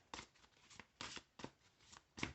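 Several quick riffling bursts of tarot cards being shuffled, close and crisp, in an uneven rhythm with brief pauses between them.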